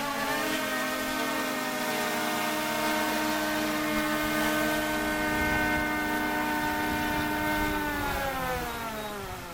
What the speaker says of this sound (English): Got the drone out here, shoots 4K quality video.